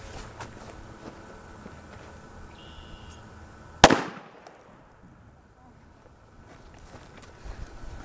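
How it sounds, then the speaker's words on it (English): A standard 2-inch red firecracker goes off in a single sharp, loud bang partway through, with a quick decaying tail, set against quiet outdoor ambience with light wind. "I have a standard issue 2-inch cracker for comparison"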